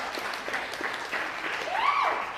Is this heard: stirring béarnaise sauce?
no